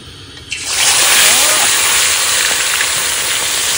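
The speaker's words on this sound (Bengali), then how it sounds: "আজকে এই গোটা গোটা তেলাপিয়া এখন ভেজে নেবো" Whole tilapia fish hit hot oil with a sudden loud sizzle that settles into a strong steady frying hiss.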